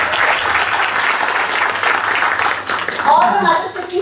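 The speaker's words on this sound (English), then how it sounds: "Let's give them a big round of applause" A school parent orientation audience applauds the foundation-year teachers, steady dense clapping filling the room for several seconds before a voice starts speaking over its fading end.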